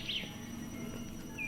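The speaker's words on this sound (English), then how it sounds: "those birds are really loud" Game birds in the trees chirp in short, bright calls, one burst at the start and another near the end over a soft constant ambience, with no talk.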